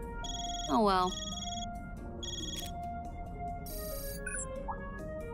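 A phone ringtone from the video game Trails Through Daybreak, a bright electronic melody of repeating tones under game music and effects, with a voice speaking briefly over it.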